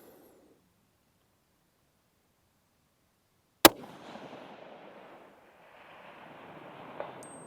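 A SAKO TRG 22 A1 6.5 Creedmoor rifle fires one sharp, loud crack after near silence, followed by a rolling rumble and echo, then a faint distant tick of the target impact.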